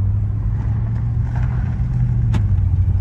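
An Audi RS7 still in first gear pulls away after a gearbox oil change, its engine a steady low drone with a short sharp sound near the end and no talking.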